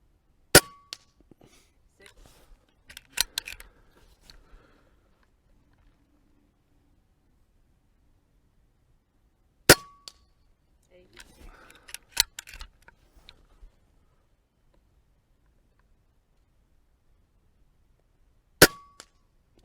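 An Umarex Notos regulated micro carbine PCP air rifle fires three sharp, close shots spaced several seconds apart, with quieter mechanical clicks and handling noises between them.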